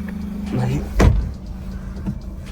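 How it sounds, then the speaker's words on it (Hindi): Idling small petrol engine of a Maruti Alto 800 car on a rough dirt track off-road, a steady low hum with a brief louder surge in the middle, heard alone without talk. "इंजन की आवाज़ सुनना"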